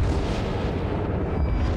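Continuous rumbling barrage of naval gunfire from ship secondary batteries in World of Warships, dense overlapping booms and blasts at steady loudness with no talking.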